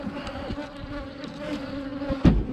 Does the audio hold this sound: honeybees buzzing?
yes